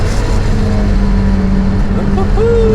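A turbocharged Mazda MX-5 on the Nürburgring pulls hard after a downshift, its engine a loud, steady in-car drone that climbs in pitch toward the end.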